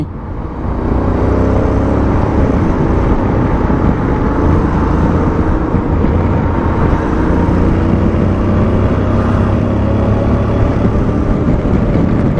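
A 2023 Honda X-ADV 750 scooter riding in rain mode with traction control and ABS at full settings gives a steady, loud broadband engine and wind roar that runs unbroken after a brief quieter start.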